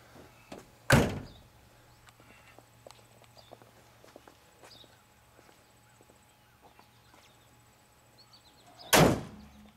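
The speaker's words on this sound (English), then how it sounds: "We'll shut the hood and we'll shut the side." Hood and door of a 1967 Pontiac Bonneville convertible shut, two solid heavy slams about eight seconds apart, close and loud over quiet outdoor background.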